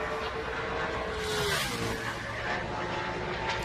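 Ford Mustang NASCAR race cars roar past during qualifying for the 2019 Quaker State 400, a dense, continuous engine drone with a rising and falling pitch as a car passes, heard at a distance.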